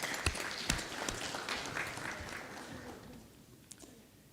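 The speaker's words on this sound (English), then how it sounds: "give them a round of applause" Applause for 28 doctoral graduates at a university winter graduation ceremony, a scattered, moderately faint clapping of a hall crowd with a few sharper individual claps, thinning out toward the end.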